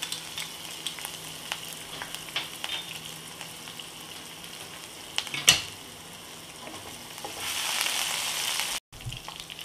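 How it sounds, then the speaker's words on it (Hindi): Finely chopped ginger and garlic fry with mustard seeds in a pan for rava upma, a soft steady sizzle with light stirring scrapes and a brief clatter, the frying swelling louder near the end. "इसके साथ ही अब इसमें हम डाल देंगे अदरक और लहसुन बारीक कटा हुआ"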